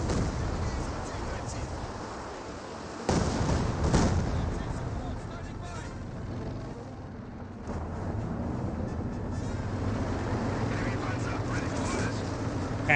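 Naval ship barrage in Company of Heroes 2, a dense, continuous rumble of distant artillery fire with heavier booms bursting in near the three- and four-second marks, over game battle ambience.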